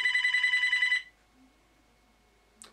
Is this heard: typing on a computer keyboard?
no